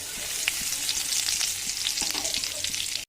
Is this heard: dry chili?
yes